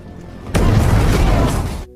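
An antique clock blows apart in a sudden loud, close burst that rumbles with broadband roar for over a second before cutting off.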